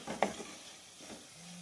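Dry meat pieces for an Andhra-style ridge gourd curry fry in a pan with a faint, soft sizzle, opened by a brief clink and stir near the start.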